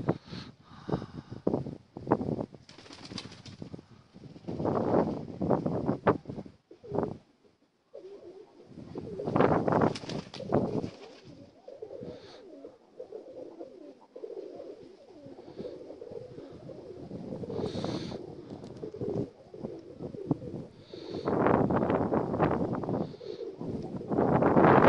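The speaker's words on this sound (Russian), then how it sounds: "Ветер очень сильный." Strong gusty wind buffets the microphone in bursts while pigeons take off and circle overhead in Donetsk, with faint cooing and wing flutter among the loud rumbling gusts.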